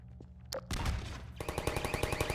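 Video game turrets firing nonstop, a fast, steady stream of sharp shots after an abrupt loud burst, close and relentless.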